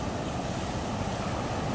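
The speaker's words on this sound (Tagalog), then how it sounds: "ayan, may alon." Waves slap and churn around a small boat, a steady washing roar with wind buffeting the microphone, continuous and fairly close.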